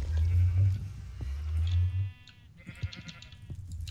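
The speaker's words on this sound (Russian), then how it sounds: "Охренеть, там сколько овец у нас, походу, я прям слышу их." Sheep bleat in a Minecraft modpack game, a couple of loud wavering calls close by followed by fainter higher bleats in the background.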